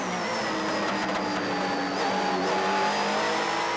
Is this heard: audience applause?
no